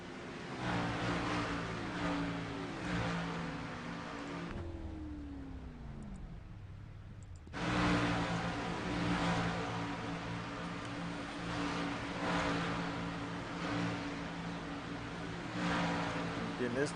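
A race car at a Chicagoland Speedway round drives down pit lane toward its pit box, engine droning loudly with gear changes and a brief drop-off midway before roaring back.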